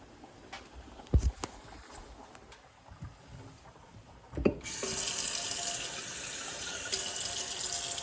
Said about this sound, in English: And then add a little bit of water into this.